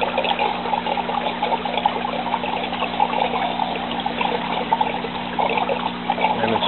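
Water trickles and splashes continuously through an IBC aquaponics vertical garden system, a steady close burble with a faint low pump hum underneath and no talking.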